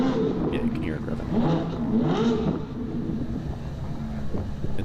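A Ferrari 812 GTS revs somewhere down the road, its engine rising and falling in a couple of loud pitch swoops under wind buffeting on the microphone.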